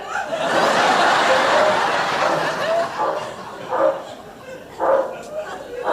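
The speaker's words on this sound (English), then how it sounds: "There's a dog in there." A dog barks sharply a few times, close and loud, mixed in with people talking and laughing.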